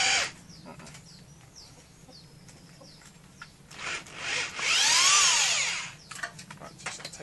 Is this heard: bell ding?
no